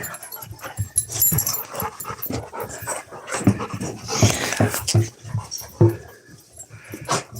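Dogs pant hard and growl close by, with quick, rhythmic breathing broken by low rumbling growls and a few whimpers, loud and busy throughout.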